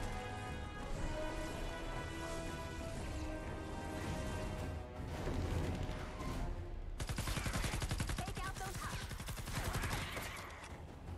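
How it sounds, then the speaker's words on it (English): Gunfire from a gun in Fortnite: Save the World: rapid bursts of shots, then dense sustained automatic fire in the second half, moderately loud with no voices. "this gun's very inaccurate"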